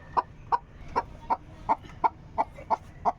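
A brooding hen sitting on a clutch of duck eggs in a dark spot under a bed clucks about nine times in a steady, evenly spaced rhythm, close and clear.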